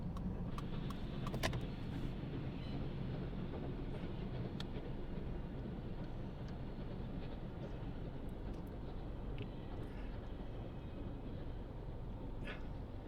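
A quarter-scale BB18 steam locomotive runs steadily on a rural track past grazing cows, a continuous low rumble and clatter with faint metallic clinks.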